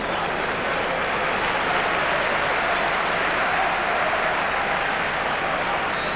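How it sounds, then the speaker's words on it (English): A football crowd at a Lazio versus Inter match applauds in a steady, distant wash of clapping and murmur that holds evenly throughout, with no clear talking on top. "Getting a round of applause from the crowd."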